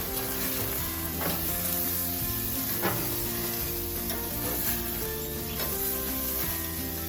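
80/20 USDA Choice beef burgers sizzling on a grill, a steady, dense crackle and hiss that carries on without pause, with a faint musical tone running underneath.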